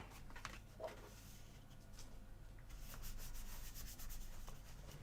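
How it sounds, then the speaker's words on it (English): Paper being burnished onto a card, a continuous close scratchy rubbing with repeated strokes that grows slightly louder, no talking. "Just make sure to burnish that really nicely."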